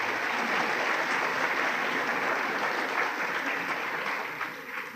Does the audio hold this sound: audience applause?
yes